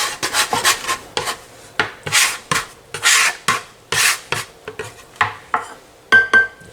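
A scraper rasps and rubs across dough on a floured board for garlic bread, a rapid series of short, uneven scraping strokes close by with brief pauses between.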